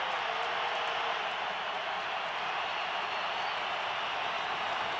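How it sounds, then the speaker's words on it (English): A stadium crowd at an NFL game between the Giants and the Broncos in Denver stamps its feet, a dense, continuous roar of rumbling thuds that fills the space without letup, loud and unbroken. "Crowd stamping its feet. Building actually shakes when they do it."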